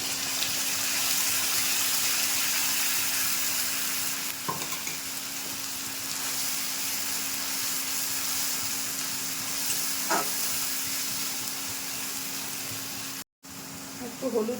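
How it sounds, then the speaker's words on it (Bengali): Ground spice paste sizzles in hot oil with already-fried katla fish for a thin curry, a steady broad frying hiss running throughout with a couple of brief clinks and a momentary cut near the end. "বাটা মশলাটা দিয়ে দিচ্ছি।"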